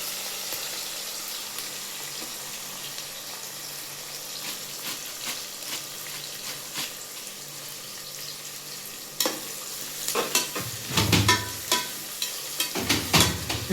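Ginger garlic paste frying with onions, mint and coriander in a pan for vegetable pulao, a steady close sizzle with louder bursts of stirring and scraping toward the end.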